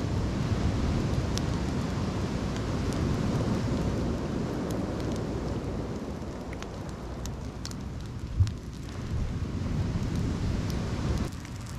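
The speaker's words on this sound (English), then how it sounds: "this rain is coming and going" Rain falls at a wild campsite as a continuous broad hiss and patter, loud and steady with scattered sharp drips, easing slightly toward the end.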